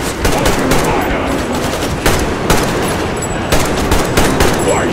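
Loud, sustained automatic gunfire hammers at mutants in the video game Metro Exodus. Rapid bursts run almost without a break, with heavier shots punching through every second or so.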